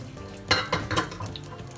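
Shallot oil sizzles and crackles in an unwashed hot frying pan, with a few sharp spattering bursts over a low, steady hiss.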